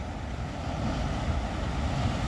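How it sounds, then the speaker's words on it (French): Big ocean waves roll onto the shore in a steady, broad roar of surf that never breaks off, with wind rumbling low against the microphone and no voices. "Il y a des géantes vagues là-bas."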